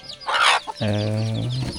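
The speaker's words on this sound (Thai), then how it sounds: "ไก่กับพ่อไก่เนาะ" A hen and a rooster in a remote rural village without electricity cluck close by, a few quick clucks followed by a longer drawn-out crowing call, with no talking.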